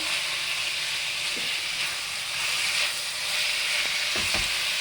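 Onion and tomato masala frying in a pan for Punjabi chole, a steady hissing sizzle with a few soft stirring knocks near the end and no talking.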